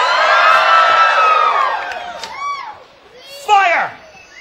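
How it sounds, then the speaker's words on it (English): A crowd at a fire-eating street show screams and cheers, children's high shrieks and whoops swelling loudly, fading, then a sharp final burst of yelling. "You guys scream, cheer, shout, make lots of noise."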